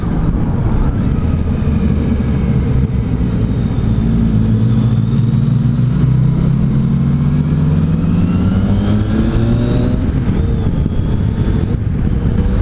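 A Yamaha FJ-09 motorcycle engine drones steadily under heavy wind rumble while riding, its pitch sliding smoothly down as it decelerates under engine braking.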